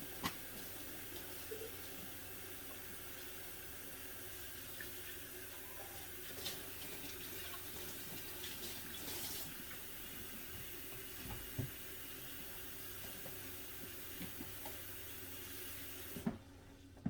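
Tap water runs steadily into a kitchen sink while dishes are being washed, a continuous hissing rush with a few faint clinks, lasting throughout before cutting off abruptly at the very end.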